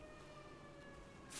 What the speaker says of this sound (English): Apologies if those sirens in the background can be heard.